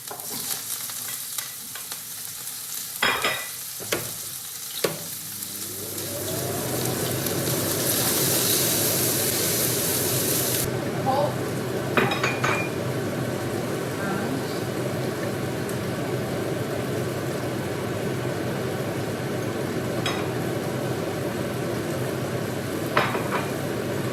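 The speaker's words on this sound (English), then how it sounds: "On high heat, you're gonna put your onions, your garlic in. Then for about 1-2 minutes, you're just gonna let that sear on all sides." Onions and garlic hit a hot pan on high heat for birria, bursting into a steady loud sizzle after a few sharp clanks and taps, with the frying hiss continuing unbroken and occasional clicks on top.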